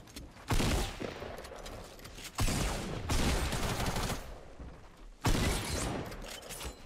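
Bursts of rapid automatic gunfire in a shooter video game, three loud clusters of rattling shots separated by short lulls with mechanical clatter, close and dominant.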